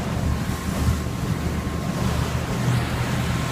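A new motorboat cruises on open water, with a steady low engine drone blended into constant wind buffeting and the wash of waves, and no talking.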